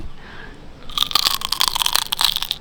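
Biting into crispy-skin roast pork: after a quiet moment, a loud close crunch followed by a rapid run of crackling chews and brittle snaps, alone with no talk.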